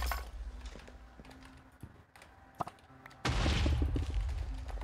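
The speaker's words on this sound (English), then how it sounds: "Oh, there's explosions everywhere." Blasts going off in Minecraft, a quiet stretch of scattered pops and clicks giving way to a sudden loud, sustained rumbling burst of explosions in the last seconds.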